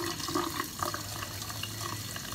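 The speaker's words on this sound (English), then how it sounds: "I usually just kind of wash it underneath the water at the same time" Tap water runs steadily into a sink while a makeup brush is washed under it, a close, even gush with small splashy fluctuations.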